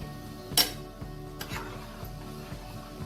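Salt and turmeric stirred into boiling water in a pot for quinoa pulao, a sharp clink of utensil on metal, then faint rhythmic scrapes and taps over a low bubbling hum.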